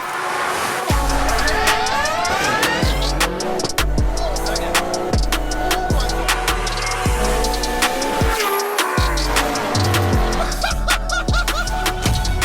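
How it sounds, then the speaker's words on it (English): A 6.0L LS2 V8-swapped Nissan S14 drift car revs and bangs repeatedly, pitch rising and dropping in rhythmic surges, with high tire-squeal screeching layered over the roar. "We have got an epic drift car and I'm going out in it."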